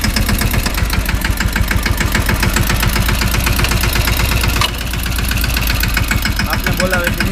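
A farm tractor engine idles nearby with a fast, even, knocking chug that holds steady throughout, its note dipping slightly midway, with voices faintly present.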